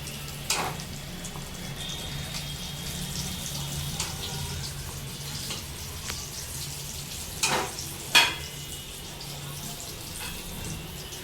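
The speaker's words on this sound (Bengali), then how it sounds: "কোপ্তা ভাজা হয়ে গেছে" Banana kofta frying in oil in a pan, giving a soft, steady sizzle with a few sharp clinks and clatters of utensils as the pieces are turned and lifted out.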